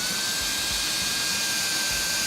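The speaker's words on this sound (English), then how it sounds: "A power screwdriver does come in handy." A power screwdriver drives a long screw into a pelvis piece during assembly, a loud, continuous high whine held steadily for a couple of seconds without talk.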